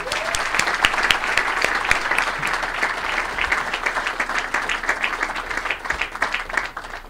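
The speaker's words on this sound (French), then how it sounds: "j'aimerais que vous puissiez applaudir chaleureusement la DG" Warm audience applause at a press conference for the 35th Vues d'Afrique festival, a dense, sustained wash of many hands clapping at steady loudness for several seconds, fading slightly at the end.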